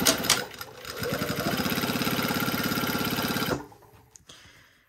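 A sewing machine stitching through leather with a leather needle at a 3 mm stitch length. A rapid, even mechanical chatter runs for about three seconds after a short start, then stops abruptly, followed by faint handling clicks.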